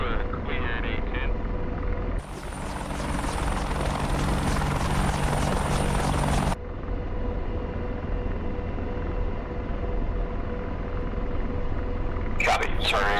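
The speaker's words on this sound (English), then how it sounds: "Kilo Group A10, request to flyby." A-10 jet flyby in the combat flight game DCS World, a loud sustained rotor-like engine drone with a sharp jump in intensity midway that then eases back, alone with no talk over it.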